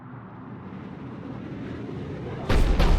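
A cannon in Mass Effect Legendary Edition fires with a sudden loud booming blast near the end, following a rising rumble, with a second burst close behind.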